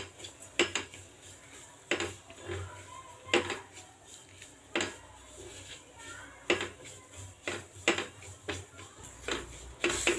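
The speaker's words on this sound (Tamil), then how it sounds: "நம்ம நெய்யிலே நல்லா வாசனை வர அளவுக்கு வறுக்க போகிறோம்." Semolina roasts in ghee in a pan while a utensil stirs it. Sharp metallic taps and scrapes against the pan repeat irregularly for about ten seconds, close and moderately loud, with no talking.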